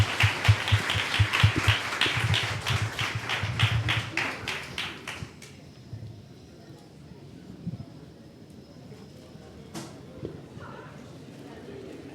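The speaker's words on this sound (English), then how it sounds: "let's give him another round of applause to get him started while he puts on the hat" Audience applause for a speaker at a storytelling talk, a burst of loud, dense clapping that fades out after about five seconds, leaving quiet room tone with a few faint stray sounds.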